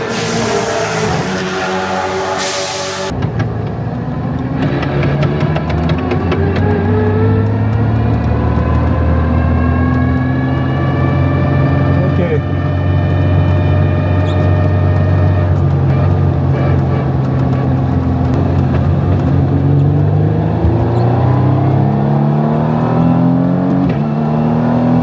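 Praga race cars driving flat out on the Le Castellet circuit, engines screaming close and loud as they approach, with a sustained high-revving roar that rises and falls through gear changes for the whole stretch.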